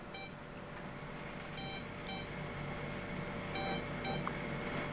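An oscilloscope on a 1971 Galapagos research expedition gives several short electronic beeps in pairs over a steady hum and background hiss, fairly faint.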